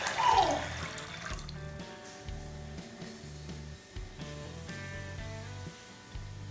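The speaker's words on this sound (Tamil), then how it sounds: "இதுல வந்து தண்ணி ஊத்திட்டு ஒரு நாள் நைட் ஃபுல்லா ஊற வச்சுக்கோங்க" Water splashes briefly into a container of dried chickpeas, a quick pour at the start, then gentle background music with a steady plucked rhythm takes over.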